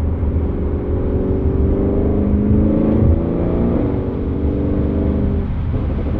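An Audi RS6 Performance, a 2019 car with 830 PS, driving along: a loud, steady engine drone with a deep rumbling tone that rises and falls slightly in pitch, close and continuous, with no talking.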